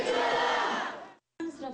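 A protest crowd in the streets of Pohang lets out a loud, sustained roar demanding the president's immediate resignation, about a second long, then cuts off briefly before the shouting resumes.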